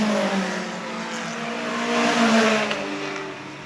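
Group 5 sports race cars over 2 litres race at the 2015 Pittsburgh Vintage Grand Prix, engines roaring loudly as cars pass, with rising and falling engine pitch and no voices.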